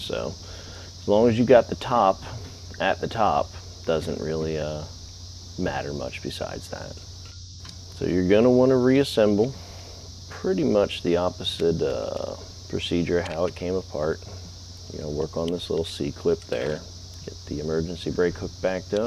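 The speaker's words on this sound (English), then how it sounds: "if you hear all that humming in the background, that's cicadas, because it's summer of 2021" Cicadas hum loudly in summer as a steady high-pitched drone throughout, beneath someone talking while he works on the rear brakes of a 2014 Mitsubishi Mirage.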